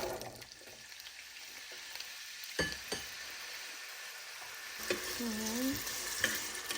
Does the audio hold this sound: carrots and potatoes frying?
yes